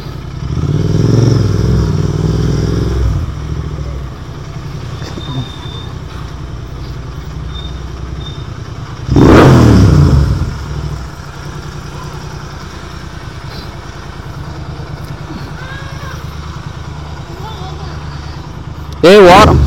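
A Royal Enfield GT 650 motorcycle engine revs out on the road, a loud rumbling burst near the start and another sharp surge midway, over steady engine and traffic noise with a brief roar at the end.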